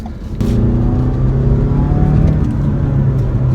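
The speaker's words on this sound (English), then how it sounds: "That was kind of just like a pull from second gear." A 2021 Toyota RAV4 Prime hybrid SUV pulls hard from second gear, its engine drone rising steadily in pitch as it accelerates, loud and close from inside the cabin, with no talking.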